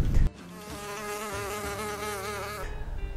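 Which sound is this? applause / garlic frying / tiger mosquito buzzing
tiger mosquito buzzing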